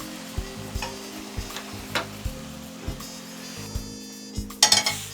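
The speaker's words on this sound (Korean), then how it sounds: "여기다가 물을 살짝만 넣어서 좀 더 볶아줄게요" Kimchi sizzles in a hot pan while a utensil scrapes and stirs in a steady rhythm, ending with a burst of louder clinks and scraping. No talking.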